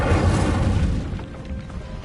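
Fire spell blast in a game: a sustained low, rumbling boom that starts strong and gradually thins out over about two seconds, with no voices.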